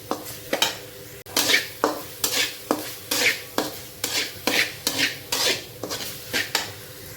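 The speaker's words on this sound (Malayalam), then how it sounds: "നന്നായിട്ട് സോട്ട് ചെയ്തെടുക്കണേ. ഓണിയന് ലൈറ്റ് ബ്രൗൺ ആവണ വരെ." Onions being sautéed in a pan for beef samosa filling, a rhythmic series of about a dozen spatula scrapes and clanks against the pan over a soft sizzle, close and distinct.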